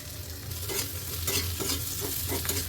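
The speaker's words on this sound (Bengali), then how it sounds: "এখন একটু ভালোভাবে নাড়াচাড়া করবো।" Papaya and green chillies are stirred in a sizzling frying pan, a spatula scraping in a steady rhythm of soft strokes over continuous close frying hiss.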